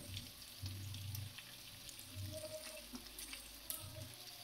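Potatoes fry in a pan with a faint, steady sizzle and crackle, joined by low recurring rumbling hums in the background.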